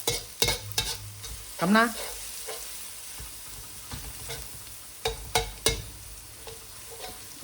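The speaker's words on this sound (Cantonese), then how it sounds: "我先至擺啲葱落去啊。 我想佢煮到金黃色，我唔想佢燶啊嘛" Scallions frying in a hot wok over the lowest flame for plain poached duck, with repeated sharp stirring clatters, a rising squeal-like scrape and a steady soft sizzle underneath; one brief spoken word.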